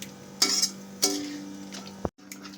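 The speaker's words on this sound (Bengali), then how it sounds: "এবার ভালো করে চিকেনটাকে আমি কষিয়ে নেব" Chicken sautéed with spices in a pan, stirred with a spoon: a few sharp metallic scrapes and clinks against the pan over a faint background sizzle, close and fairly quiet.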